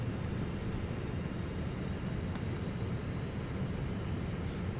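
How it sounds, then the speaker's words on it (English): Airbus A319 auxiliary power unit spooling up in Microsoft Flight Simulator 2020, a steady, dense low rumble and broadband whoosh held at an even level throughout. "And APU is going to start."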